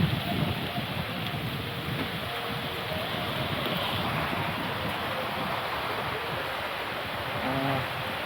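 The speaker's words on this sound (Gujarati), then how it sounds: "આપણે નીણ જો ચાલુ વરસાદમાં આપણે વિડીયો ઉતારવાનો છે." Steady rain falling on a village dairy farm where fodder is covered with metal sheets and tarpaulin, a soft continuous hiss at moderate level throughout, with no talk.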